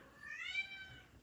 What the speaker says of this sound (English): Loud kitten is loud.